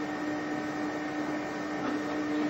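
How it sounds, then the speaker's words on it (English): A Zebra ZXP Series 8 retransfer card printer runs a cleaning card through its rollers, giving a steady, even mechanical whir with a constant hum and no pauses. "hit the clean button on the front of the printer so that it may feed in and clean the rollers"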